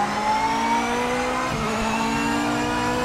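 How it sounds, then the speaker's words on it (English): A race car engine in the racing video game Project Motor Racing holds a steady, sustained tone with a layered mechanical drone, loud and continuous with only a slight shift partway through and no talking. "Cars sound good on this game too."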